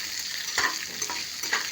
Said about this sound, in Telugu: ఇగో ఈ పోపు వేసేసి